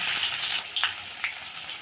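Fenugreek seeds, cumin, green chilies and onions sizzle in hot oil, a soft continuous frying hiss with a couple of faint crackles, brief and fairly quiet.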